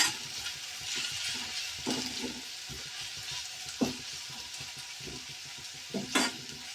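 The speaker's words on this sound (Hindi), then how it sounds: "अब हम प्याज को भून लेंगे अच्छे से" Onions frying in an iron kadhai, a steady sizzle broken by repeated scraping strokes of a spoon against the metal and occasional louder clanks.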